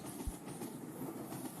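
A Roblox game train runs along its track with a steady, muffled rumble and faint clickety-clack, even and continuous throughout, with no talking.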